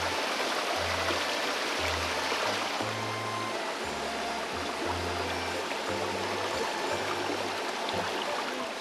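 A mountain valley stream beside a temple flows in a steady, broadband rush of water that stays constant and fairly close throughout, with no voices.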